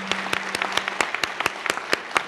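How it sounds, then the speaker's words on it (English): A small crowd applauds a marching band, sharp individual claps standing out over a dense, steady patter of many hands, fairly close and loud for a couple of seconds. "Can we have a round of applause for them?"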